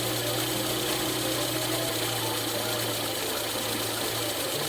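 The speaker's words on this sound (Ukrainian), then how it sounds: "двигун починає збавляти обороти" A car engine with a second-generation LPG system drones steadily at idle, revs dropping, a continuous mechanical hum with faint knocking texture, nearby and fairly loud.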